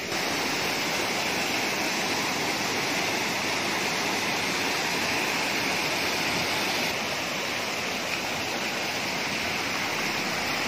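Wadakada Ella waterfall, with water running low in a dry forest, gives a steady, broad rushing roar heard close and unbroken, with no voices over it.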